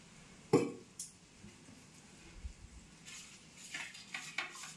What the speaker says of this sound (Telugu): ఇది మిక్స్ చేసుకొని ముక్కలకు పట్టించుకుందాం.